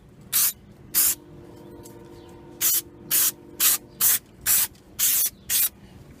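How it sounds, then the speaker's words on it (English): Aerosol brake cleaner sprayed onto the brakes of a 2003 Mitsubishi Lancer ES during a brake pad replacement: about nine short, close, loud hissing bursts in an uneven rhythm, separated by quiet gaps with no talking. "with some brake cleaner. These stuff are like alcohol."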